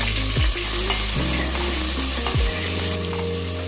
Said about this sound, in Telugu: ఆయిల్ వేగిన తర్వాత ఉల్లిపాయలు పచ్చిమిర్చి వేసి బాగా వేయించుకోవాలి